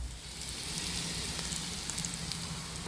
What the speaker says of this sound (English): my onions are cooking